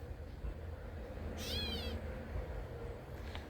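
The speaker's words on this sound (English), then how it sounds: "So catbird species, it's called the gray catbird." A gray catbird gives a single short mewing call once amid quiet outdoor background noise, faint and somewhat distant.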